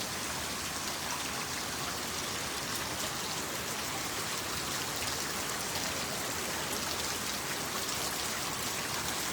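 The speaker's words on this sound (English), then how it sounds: "it's just so nice to listen to the raindrops" Steady rain falls on a farm planted with tapioca, yangona and ndalo, a dense, even patter of raindrops on surfaces that holds constant throughout with no voices.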